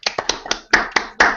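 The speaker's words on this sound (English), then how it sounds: "Round of applause." A few people clap briefly at the start of an NBA talk show, seven sharp, separate, close hand claps in a loose uneven rhythm.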